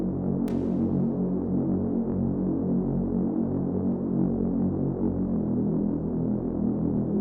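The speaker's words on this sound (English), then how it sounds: "The only other bass that I have in here is an intro Reese" Reese synth bass built from a filtered sawtooth with reverb, a dense, sustained low drone that throbs and wobbles slowly, loud and steady throughout, with one brief bright click near the start.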